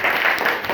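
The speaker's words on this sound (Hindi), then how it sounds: "एक बार जोरदार ताली बजाओ, दिल खोलो यार।" Schoolchildren in a classroom clapping loudly together, a short dense burst of hand claps close by.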